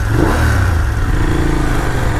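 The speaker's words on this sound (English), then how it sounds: "Once it's ready, just start it. And listen to that, it sounds proper." A 2019 BMW F750GS motorcycle engine runs just after starting, a loud, close, throbbing mid-pitched rumble with a slight clatter, holding steady throughout.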